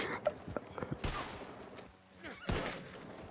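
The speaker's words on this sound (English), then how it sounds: "He's giving me warning shots." Warning shots fired into the air, a few sharp loud bangs in quick bursts with a short quiet gap between them, close by, with voices talking around them.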